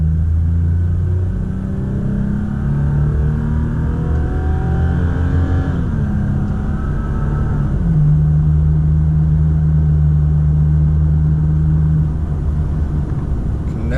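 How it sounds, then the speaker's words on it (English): Car exhaust droning on the I-80 East freeway, a loud, close, steady low rumble with engine tones that shift as the car changes gears and holds speed. "Never really get tired of that exhaust."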